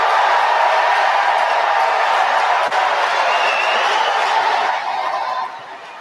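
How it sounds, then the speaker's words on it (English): An audience at the 2019 Nininger Award ceremony applauds in a loud, even wash of clapping that holds steady for about five seconds before tapering off. "Let's give her a round of applause."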